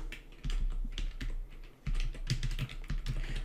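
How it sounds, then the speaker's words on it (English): Someone types a password on a computer keyboard with a large microphone set just in front of it; close, uneven clusters of key taps and pauses, no talking. "Sorry, I can't type very well because I've got this huge microphone in front of the keyboard"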